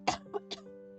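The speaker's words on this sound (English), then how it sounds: "Hold on, I had to cough." A single person coughs three times in quick succession, a strong first burst followed by two smaller ones, close to the microphone over a faint steady hum.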